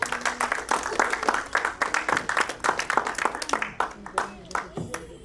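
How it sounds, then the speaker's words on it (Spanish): A church congregation breaks into sustained applause, a dense rapid patter of many hands clapping close by, with voices mixed in underneath. "Dale un aplauso a él."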